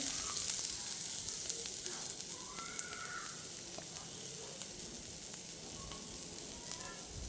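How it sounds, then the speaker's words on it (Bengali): Chopped onion sizzles in hot oil in a kadai for a momo chutney, a steady close crackling hiss with occasional stirring scrapes, alone without talk. "তেলটা গরম হয়ে গেলে আমি এতে দিয়ে দেবো পেঁয়াজ কুচি।"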